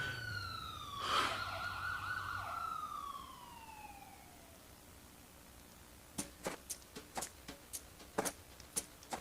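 A police siren wails in falling sweeps that fade into the distance, followed by a run of sharp knocks or clicks.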